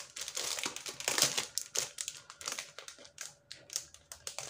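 Plastic packaging crinkles and crackles as a Starbucks planner package is unwrapped, close up, in dense, irregular bursts of rustling with brief pauses and no talk.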